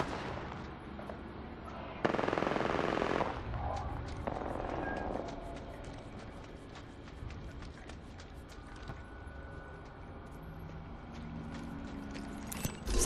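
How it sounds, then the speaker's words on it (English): Gunfire from Apex Legends on Nintendo Switch: a loud burst of automatic shots near the start, then rapid distant rattling fire and clicks continuing at lower level, with faint in-game effects. "The enemies are shooting at me."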